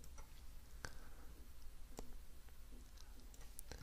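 Scattered computer keyboard key clicks while code is typed, a few sharp isolated taps spaced irregularly over a quiet background, fairly close.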